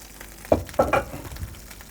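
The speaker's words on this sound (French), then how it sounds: "Ça grésille bien, c'est ce qu'il faut. Beurre très chaud." Very hot butter sizzles and crackles in a frying pan, with a few louder pops and stirring bursts over a steady hiss.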